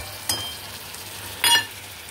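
Ginger-garlic paste and spices dropped into a pan of sizzling fried onions give two short hissing sizzle bursts over a faint steady frying background, close and fairly quiet.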